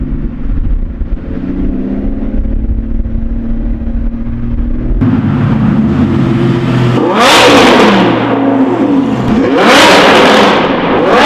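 Lamborghini fitted with a Ryft exhaust, first a low idle rumble, then a rising engine note and two sharp, loud revs that climb and fall back, each making the car shake.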